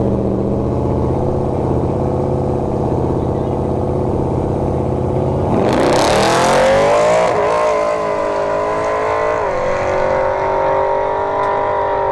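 A Chevrolet Camaro and a Cadillac CTS-V at a drag strip: a steady loud engine drone, then a sudden roaring launch at about six seconds that swells and carries on as the cars pull away, no voices.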